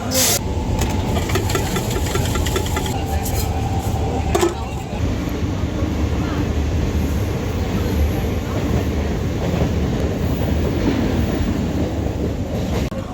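Steady rumble and rattle of a local train running along the tracks between Balichak and Howrah, continuous and fairly loud, with a brief clatter early on.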